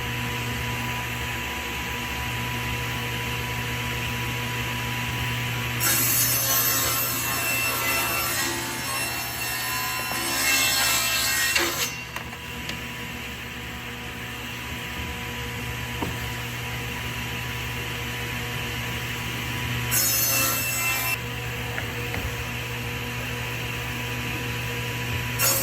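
A table saw rips a wood strip along the grain, the blade whining loudly through two long cuts, one lasting about six seconds and a shorter one later, over a steady machine hum.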